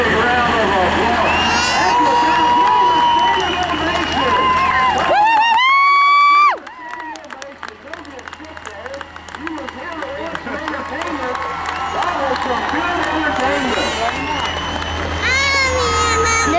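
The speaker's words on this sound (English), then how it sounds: "Let's give him a big round of applause" Spectators at a 2011 Athens County tough truck event applaud and cheer, a busy crowd roar with shouting voices and a brief burst of revving truck engine partway through.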